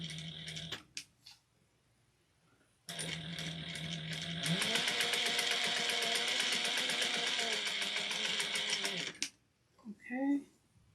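A sewing machine stitching a Sallie Tomato Luci bag connector seam, running in short bursts then a long steady whirring run of rapid needle strokes, with brief talk before and after.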